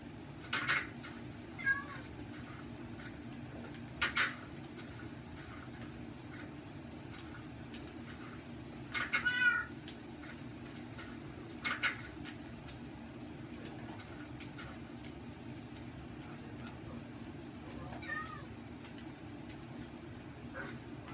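A cat in Minecraft gives several short, soft meows spaced out over a steady low background rumble, faint and fairly distant throughout.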